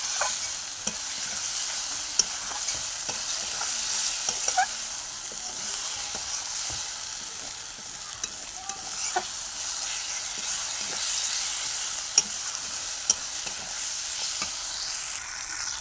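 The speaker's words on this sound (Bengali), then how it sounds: "নুন লঙ্কা চিনি দিয়ে মশলাটাকে কষে নিচ্ছি।" Spice masala with salt, chili and sugar is stir-fried in a pan, giving a continuous hissing sizzle close by, with frequent scraping and clanking strokes of the spatula.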